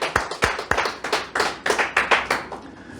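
A church congregation at a New Year's Eve service claps in loose, uneven bursts, repeated hand claps rising and falling over a few seconds, close and fairly loud with no talking.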